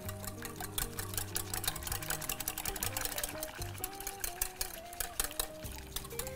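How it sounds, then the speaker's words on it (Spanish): An electric mixer whirs steadily while it beats the cream for a tres leches cake, a continuous motorized buzz with rattling, clicking texture, heard alone without speech. "Continuamos mezclando."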